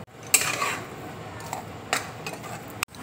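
A spoon scrapes and stirs gram flour (besan) through ghee in a metal pan for a Bengali sweet, with soft repeated scraping clinks and a few sharper knocks against the pan, close and fairly quiet, with no talking.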